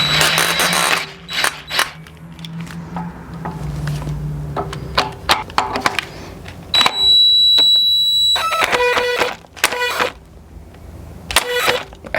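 Power drill driving fasteners into Impaktech race rails, heard as several short whirring bursts with clicks and pauses, including a sustained high whine near the middle, fairly close.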